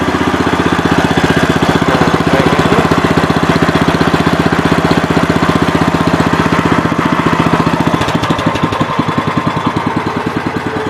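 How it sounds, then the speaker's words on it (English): Kawasaki engine on a Gravely 5200 tractor running steadily at close range, a loud continuous idle with even rapid firing pulses that grow choppier and slightly rougher near the end, running a little rich. "this is a good running motor."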